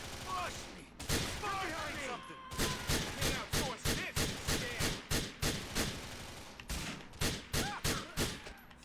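Gunfire in Grand Theft Auto IV, loud close shots fired in rapid, fairly even bursts, roughly two per second, with short pauses between volleys.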